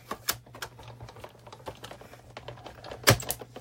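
A die-cutting machine feeds a paper die with many small intricate cuts, making irregular close clicks and knocks over a low steady hum, with one louder thump near the end.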